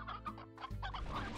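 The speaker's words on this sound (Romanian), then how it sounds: "Putem lua găini să le hrănim." Chickens in the video game Slime Rancher cluck in a quick run of short, close, fairly quiet calls with no voices.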